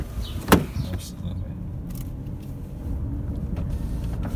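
A car's rear power window slides down with a smooth electric motor whine under the steady hum of the car interior, after a brief sharp click near the start.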